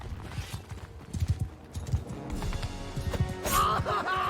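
Horse hooves in the Mount & Blade 2: Bannerlord video game, a steady clip-clop of galloping that grows busier and louder, mixed with battle clatter and a brief whinny-like cry near the end.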